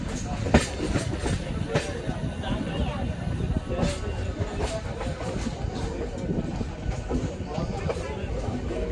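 Howrah–Panskura–Digha local passenger train rolling along the rails, a steady rumbling clatter with rhythmic wheel clicks and occasional sharp rail knocks, heard from inside the carriage with faint background chatter.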